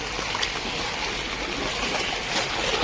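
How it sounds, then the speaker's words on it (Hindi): Floodwater rushing through a flooded street after heavy rain, a continuous broadband wash of flowing water, steady and fairly close, with no voices over it. "पानी से पूरा गली भर गया"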